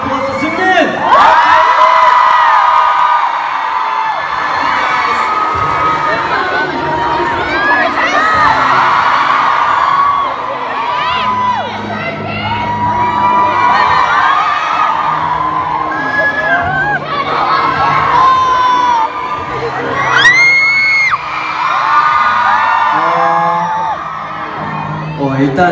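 A packed concert crowd roars, screams and cheers loudly and continuously, with shrill whoops rising and falling in waves and a voice occasionally audible beneath the noise.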